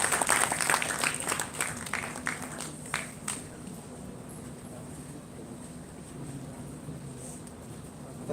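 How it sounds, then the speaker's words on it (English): An audience at a university lecture event in India applauds a guest speaker; scattered claps are strongest in the first few seconds and then fade into a low room hum. "Please welcome Dr. Kinshuk Das Gupta with a big round of applause."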